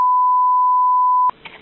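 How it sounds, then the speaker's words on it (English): A steady, loud electronic beep holds for over a second, then cuts off abruptly into a brief moment of quiet background sound. "I tried really hard to get rid of all the beeps, but I obviously missed a couple."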